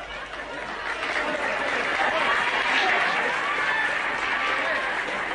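Canned applause and laughter on a 1970s soul comedy record, a steady, dense wash of clapping and crowd noise held at an even level throughout, with no distinct voice rising above it.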